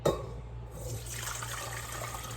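Boiled pineapple tea strained through a strainer into a bowl, a steady close pour of liquid splashing and running throughout after a brief knock at the start, with no talking.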